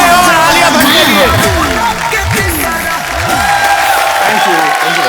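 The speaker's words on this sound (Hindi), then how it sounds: "जोरदार तालियां एक बार शाहरुख भाई और आलिया भट्ट के लिए।" A television comedy show's studio audience applauds Shah Rukh Khan and Alia Bhatt, a loud cheering crowd mixed with voices, with gliding musical tones running beneath it.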